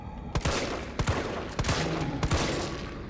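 Repeated gunshots in Resident Evil 3 on PC, four sharp, loud reports spaced about half a second apart over a steady, noisy game background.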